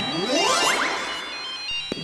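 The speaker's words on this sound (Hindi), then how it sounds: "मेरे बाद इन्होंने अभी घंटी बजाई।" An electronic doorbell chime in a Motu Patlu cartoon plays a few quick rising tones, fairly loud and close, followed by a faint click.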